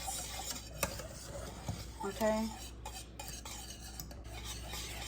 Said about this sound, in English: you're just gonna whisk that back up, stir it up really quickly